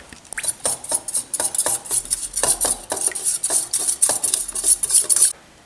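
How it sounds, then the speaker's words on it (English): Minced garlic and honey are whisked together with a small hand mixer, giving rapid repeated clicking and scraping strokes against a bowl, close up and rhythmic for several seconds before stopping. "Then we're going to get our little mixer and whack it all together"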